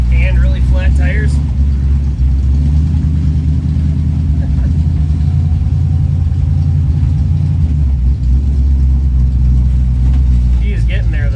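An old car's engine runs at a steady, loud, low rumble, with a constant droning tone and slight fluctuations in pitch throughout.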